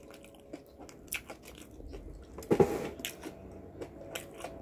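Someone bites into and chews a tuna sandwich snack, with soft crunchy bites and moist chewing close to the mic, one louder bite standing out midway among quieter mouth sounds.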